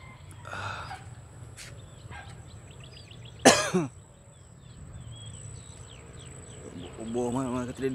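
A person out jogging in the morning coughs once, loud and close, among light birdsong, with talking before and after.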